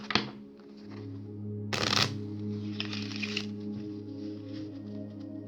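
Playing cards are shuffled in a few quick riffling bursts over a steady low hum, with no talking.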